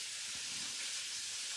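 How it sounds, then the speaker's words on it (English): Breakfast sausages sizzle in a pan, giving a steady, soft, hissing crackle that stays at an even, fairly quiet level without pause. "That's what you hear sizzling."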